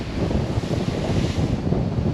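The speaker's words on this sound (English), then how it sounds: "Nice and windy." Wind buffeting a yacht underway at sea, a loud, steady roar across the microphone with the rush of waves beneath it.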